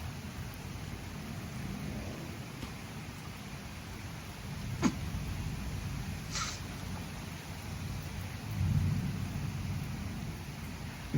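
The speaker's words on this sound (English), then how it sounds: "You can definitely hear the lightning from the old storm that just passed through" Distant thunder from a passing thunderstorm over Manchester, New Hampshire rolls in as a faint low rumble that swells briefly near the end, over a quiet outdoor background with a couple of sharp clicks.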